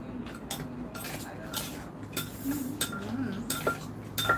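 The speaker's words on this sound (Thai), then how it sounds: "หั่นเป็นบางๆแบบนี้นะคะ" A knife slices ingredients thinly for a spicy Thai salad with cucumber and fermented fish, giving sparse, close taps and clinks on a cutting board against faint kitchen background.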